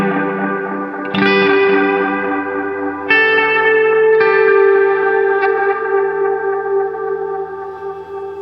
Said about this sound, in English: you get smeared repeats that have some movement and something happening within the reverb